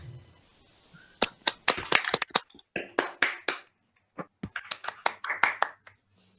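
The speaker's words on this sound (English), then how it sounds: "Please unmute yourself and applaud for the speaker." Participants in an online academic talk, unmuted from their microphones, clap for the speaker: scattered, uneven claps and taps from a few people at once, coming in irregular clusters with short gaps of near silence.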